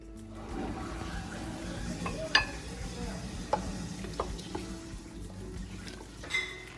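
Homemade marinara tomato sauce simmers in a pot with a soft bubbling, low steady background and a few sharp clicks and taps from utensils or the pot, fairly quiet overall.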